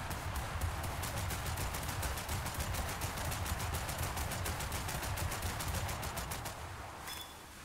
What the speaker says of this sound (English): Oh, there's another thing shooting at me.